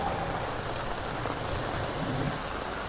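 Heavy rain pours down in Jaffna, a steady dense hiss and patter of water that stays constant and loud throughout with no voices.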